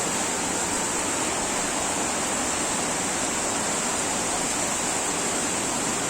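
Rainwater pours steadily off a shop roof in heavy rain, a loud, continuous hissing rush filling the whole stretch with no voices.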